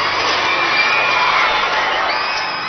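A large crowd in St. Peter's Square applauds and cheers, a dense, continuous wash of clapping and shouts at steady volume throughout.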